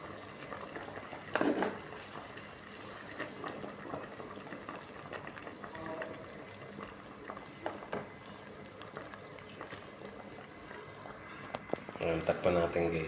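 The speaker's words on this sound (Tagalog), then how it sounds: "Ayan guys, kulo na guys." Mackerel fish soup with moringa and string beans boiling in a pot, a soft steady bubbling with occasional louder splashes and clinks, under intermittent talk.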